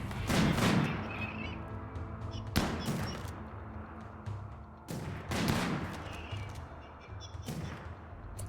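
Gunfire in the RimWorld video game comes as sharp bursts of shots, four clustered volleys spaced a couple of seconds apart, fairly loud with no talk.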